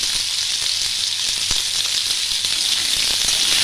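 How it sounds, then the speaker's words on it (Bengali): Small cut potatoes frying in a pan for a fish and ridge gourd curry, giving a steady loud sizzle with faint crackles throughout and no talking. "একটু আলুগুলো ভেজে নেব যাতে কাঁচা গন্ধটা না বেরোয়।"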